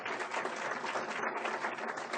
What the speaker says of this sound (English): But a nice round of applause for them.